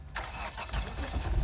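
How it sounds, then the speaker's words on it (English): Toyota Mark X car with a 3GR-FS V6 engine cranking and firing up, a brief starter whir followed by the engine catching and settling into a steady, close idle rumble with no talking. "Let me run the engine."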